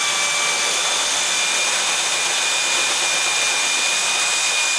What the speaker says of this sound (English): with just a moderate amount of pressure, I'm cutting through this tubing